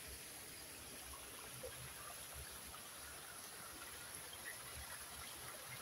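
A cold mountain stream runs over rocks at a hiking trail's starting point, giving a faint, steady, even rush of water with no pauses.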